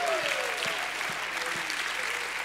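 A revival congregation claps and voices praise in a church at an evening service, a continuous wash of crowd applause with a few louder individual claps and vocal shouts throughout.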